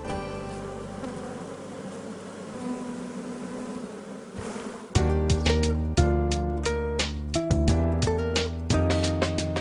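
A dense, droning buzz of many honey bees around a wooden hive, swelling noticeably louder and fuller about halfway through and holding steady close by.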